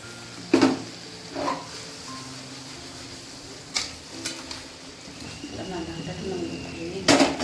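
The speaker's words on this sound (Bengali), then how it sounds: "মাটন রান্না করার জন্য যে আলুটা ব্যবহার হবে সেই আলুগুলো ভেজে নেওয়া হচ্ছে লবণ দিয়ে" Potatoes frying with salt in a pan, a soft steady sizzle with several sharp clatters of a utensil against the pan, close by, with a voice talking over it at times.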